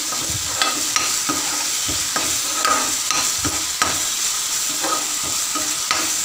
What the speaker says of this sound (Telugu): కొంచెం అల్లం వెల్లుల్లి పేస్ట్ వేసుకుని ఒకసారి వేయించుకోవాలి